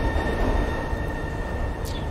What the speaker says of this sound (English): The subway car is empty, save for a stoic middle-aged couple and a drunk staring intently at his own feet